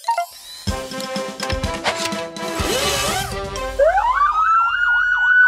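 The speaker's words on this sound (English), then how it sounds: "Maybe something like that will work with a siren." A cartoon vehicle's siren winds up from a low pitch into a loud, rising and falling wail after a busy jumble of clanking and music-like tones.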